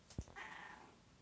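A domestic cat lets out a single short meow, close and fairly quiet, in a hot indoor setting.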